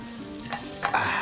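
Bananas fry in a pan with a short burst of sizzling and stirring, steady hiss with a couple of brief scraping accents.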